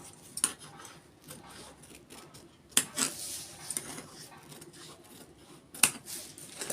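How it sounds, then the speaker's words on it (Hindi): Fabric for a large handbag being cut, with close, sharp scissor snips and a few crisp clicks spread irregularly over a quiet background and no speech. "इसे इस तरह से रखकर इसकी कटिंग करेंगे"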